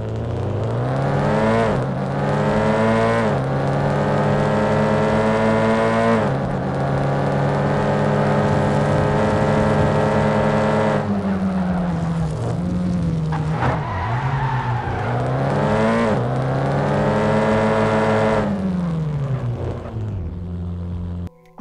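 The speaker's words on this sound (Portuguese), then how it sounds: "só escutem o ronco do carro aí." A loud car engine in a mobile video game roars and revs up through rising gears repeatedly, with drops between shifts and some tire skidding, up close without talk.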